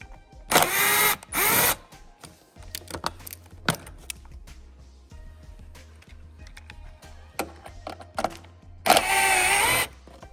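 Power tool backing out Torx 30 bolts from the front body panel of a Canyon, two loud whirring bursts at the start and one near the end, with quieter clicks and handling in between.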